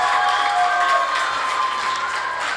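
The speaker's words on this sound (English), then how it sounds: "Please give a round of applause to the students from Peakfield Academy." A crowd at a secondary school tech challenge applauds the winning students with sustained, loud clapping, mixed with some cheering and a faint tone that stays underneath.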